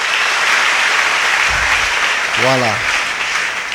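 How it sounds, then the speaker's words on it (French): Church congregation clapping in applause during a Sunday worship service, a steady wash of hands across the whole stretch with a brief spoken word rising over it near the end. "Acclamer un peu la parole."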